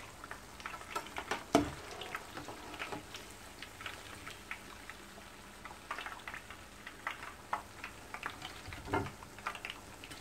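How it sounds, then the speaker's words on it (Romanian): Battered cauliflower florets crackle and pop in hot frying oil, a steady faint sizzle broken by sharper spits close by, with no talking. "Voi proceda în felul acesta și cu conopida rămasă, până o voi termina pe toată de prăjit."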